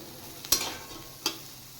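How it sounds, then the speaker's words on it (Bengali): Chickpea curry fries in a pan with a faint, low sizzle while a spoon stirs it, making two short, distinct scrapes against the pan. "এবার একটু নাড়াচাড়া করে দিয়ে দেবো জল"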